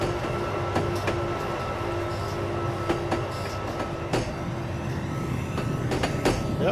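An Amtrak ACS-64 electric locomotive and its train rolling past on the Northeast Corridor near New York, a loud, steady rumble with repeated rail clicks and wheel clunks, close by and without talk.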